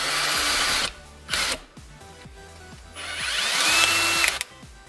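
A power drill drives a self-tapping screw without turbo thread into a wooden board: short whirring bursts, a pause, then a longer rising whine with a brief stutter near the end, close and clear, no talk.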